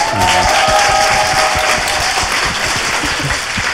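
Loud, sustained applause from a large audience, dense clapping filling the whole stretch without a break.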